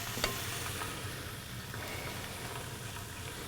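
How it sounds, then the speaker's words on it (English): Beef quick-searing in a hot pan, a steady broadband sizzle with a brief sharp spatter near the start, continuous and close with no talking. "it quick sears the outside"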